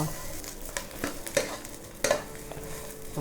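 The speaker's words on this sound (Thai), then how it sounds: "พริกของเราก็ใกล้จะได้ที่แล้วนะคะ เดี๋ยวคั่วอีกสักนิดนึงก็ได้ที่แล้ว" Chillies dry-roasted in a pan with no oil for a northeastern Thai chili dip, stirred all the while: a steady scraping and rustling with faint sizzle and a few sharper utensil knocks against the pan, close and alone.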